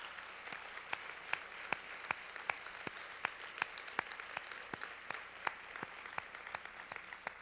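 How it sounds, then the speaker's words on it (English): Sparse, faint applause from a luncheon audience for local elected officials and their staff: scattered individual claps in a loose, steady patter that stays thin and distant throughout. "let's give a round of applause to all of our local elected officials and their staff"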